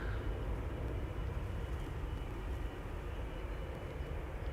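A KLM Boeing 777-200, a 20-year-old heavy jet, roars steadily on takeoff from Schiphol's Polderbaan runway, a dense, continuous low rumble that holds at a moderate level throughout.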